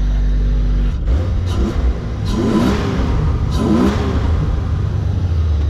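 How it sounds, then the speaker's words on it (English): A large truck engine revs up loudly twice, the roar rising and falling close by over a steady rumbling idle. "Here, let me rev it a little bit for you."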